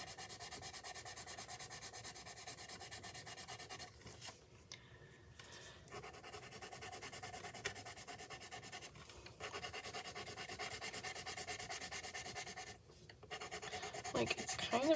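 A white Artist's Loft colored pencil rubs over colored pencil layers on paper, a soft, steady scratchy rubbing in close, rhythmic strokes with brief pauses and no talk.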